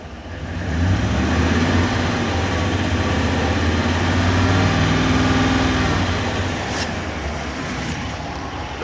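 A car engine runs at raised RPM during a charging-system ripple test, a steady loud low-frequency drone held for several seconds with no speech.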